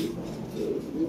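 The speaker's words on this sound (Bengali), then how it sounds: "এই আমার নিজস্ব বিটের কবুতর।" Lahori pigeons coo in a short, soft, low burst close by, alone without any voices.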